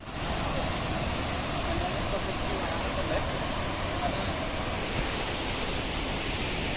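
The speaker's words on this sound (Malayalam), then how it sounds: "പുറകിൽ കാണുന്നതാണ് അതിരപ്പള്ളി വെള്ളച്ചാട്ടം." Athirappilly waterfall roars as heard from its bottom viewpoint, a steady, dense broadband rush of falling water that continues without a break.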